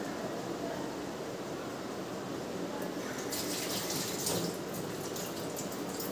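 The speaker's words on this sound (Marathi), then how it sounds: "मिरची, कोथिंबीर, मिरच्या पण धुवून घेते मी." Tap water runs steadily while chilies and coriander are rinsed under it, a close continuous splashing hiss with brief spattering as the herbs move in the stream.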